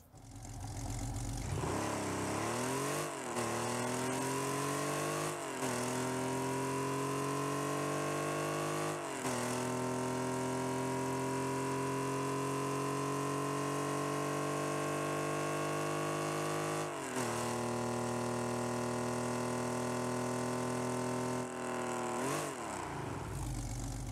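A Hot Wheels MR11 car engine in a video game revs up repeatedly, pitch climbing and dropping between gear shifts, loud and steady throughout with no talking.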